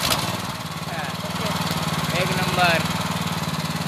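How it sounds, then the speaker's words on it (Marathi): A tractor engine runs steadily after being restarted following a stall while plowing a paddy field, a close, continuous low mechanical drone with a brief speech burst at the start. "ट्रॅक्टर बंद पडलेलो आणि आता आपण त्या पहिल्यांदा चालू केला त्याच पद्धतीने परत चालू करता"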